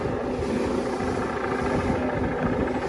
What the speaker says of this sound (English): The air recon unit is flying above us in the NYPD helicopter.